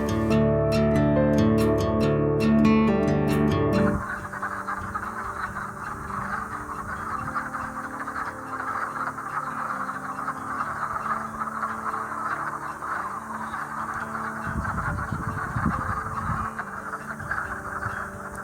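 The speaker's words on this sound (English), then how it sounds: "Frogs are waking up." Frogs croaking in spring after thawing from winter mud, a steady outdoor chorus that carries on for most of the stretch, following a louder harmonic opening, with a low rumble near the end.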